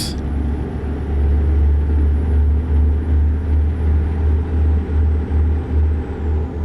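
Steady, smooth diesel drone from a Kenworth W900B with a Cummins X15 engine in American Truck Simulator, a low rumbling cruise with a faint high whine and gentle pulsing, no talking.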